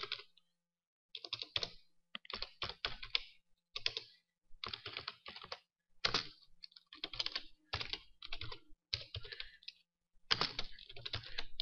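Someone types on a computer keyboard in quick, close clusters of crisp key clicks, broken by short pauses, with no voice over the typing.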